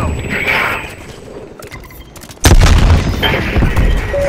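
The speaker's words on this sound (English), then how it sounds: "Watch out, grenade" A grenade blast in Call of Duty: Black Ops Cold War lands as a sudden loud boom partway through, followed by a sustained rumbling roar and scattered gunfire-like crackle, with quieter game ambience and faint voices before it.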